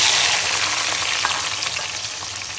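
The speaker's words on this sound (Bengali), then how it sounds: "তেলে এখন চিংড়ি মাছ, রসুন কুচি, পেঁয়াজ কুচি আর কাঁচামরিচ দিয়ে দিচ্ছি।" Shrimp, chopped garlic, chopped onion and green chilies frying in hot oil make a loud, close, crackling sizzle that tapers off slightly over a few seconds.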